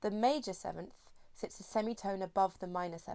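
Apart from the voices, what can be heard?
No everyday noises stand out.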